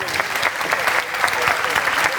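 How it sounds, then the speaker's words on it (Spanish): Enthusiastic audience applause at a cybersecurity event, a loud dense burst of many hands clapping close by, continuous and even throughout. "Fuerte aplauso para ellos"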